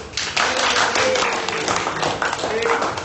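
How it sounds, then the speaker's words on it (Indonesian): A classroom of students applauds in a lesson on Pancasila education, a dense, continuous patter of many hands clapping at close range, fairly loud and steady throughout. "Lagi tepuk tangan dulu"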